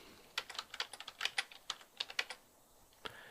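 Fingers tap out a quick, uneven run of clicks on a computer keyboard, quiet and close, with a brief pause before one final keystroke.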